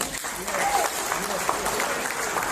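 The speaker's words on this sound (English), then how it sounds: "please also give him a big hand of applause" An audience applauds at an Indian community ceremony honoring a former honorary consul general of Liberia. The clapping is steady and even throughout, with a voice talking over it.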